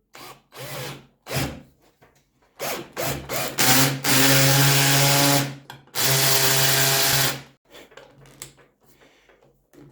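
A BLACK+DECKER BDASB18V two-speed hammer drill set to maximum in drilling mode drives a large 10mm-head screw, with two long, loud steady whirring runs between shorter bursts and handling knocks, no voices.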